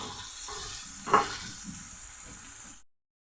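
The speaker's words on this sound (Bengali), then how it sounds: "জিরে গুঁড়ো দিয়ে আমি কিছুটা জল দিয়ে দিচ্ছি অল্প করে মশলাটা আমি একটু কষিয়ে নেবো" Spice paste with cumin and coriander powder sautéing in a pan with a little water, a steady close sizzle with one brief spoon scrape, cutting off abruptly after a few seconds.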